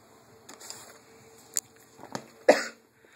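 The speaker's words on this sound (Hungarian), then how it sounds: "Kicsit meg vagyok fázva, szóval elnézést a sok köhögésért" A person with a cold coughs a few times, short dry bursts spread across a few seconds with the loudest near the end, plus faint handling noises in a quiet room.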